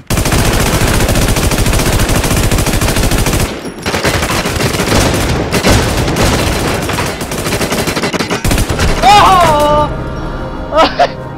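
Loud automatic gunfire from the video game Infestation, sustained bursts that run almost nonstop, briefly dip, then resume, with sharp electronic tones and a voice talking near the end.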